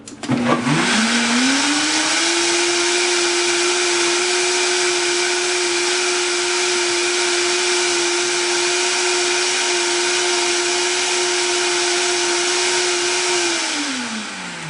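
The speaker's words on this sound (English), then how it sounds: "there's a pulse button, and when that light is flashing, it means the blender's ready" A Blendtec or Oster Versa blender motor spins up on high and holds a steady high-pitched whine for about twelve seconds, then winds down at the end; loud and close, no talking.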